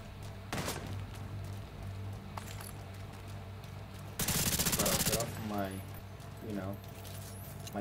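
Gunfire in the video game The Division 2: a dense burst of rapid automatic shots partway through, set against a steady background rumble of game ambience, with voices heard talking at times.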